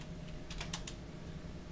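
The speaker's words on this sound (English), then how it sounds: "now we can just start typing the baking instructions" Quick, light keystrokes tap on a computer keyboard in a short burst of about five clicks, faint and close over a steady low hum.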